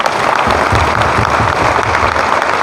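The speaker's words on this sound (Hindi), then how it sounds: "जो आना चाहते थे वो लोग जोरदार ताली बजाएं" Loud, dense applause from a large crowd, sustained and even from start to finish.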